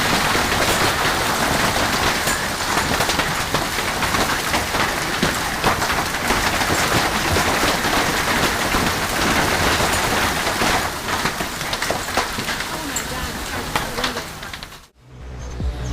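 Golf ball-sized hail pounding down in an Arizona storm, a dense, loud, continuous clatter of impacts that drowns everything else, then cuts off abruptly near the end.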